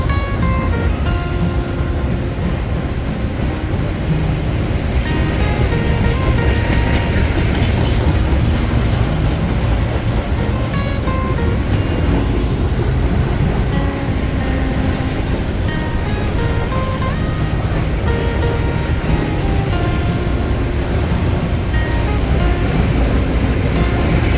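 A long freight train hauling many 53-foot containers rolls past close by at a rail junction town, a continuous loud rumble with rhythmic clickety-clack of wheels over joints and steady wind-like roar, no talking.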